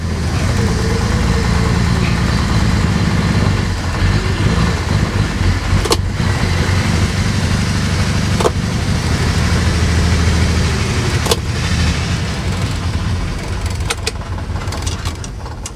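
The engine of a 1957 Plymouth two-door barn find, parked for over twenty years, runs rough with a loud, steady low rumble and a few sharp knocks and clicks scattered through.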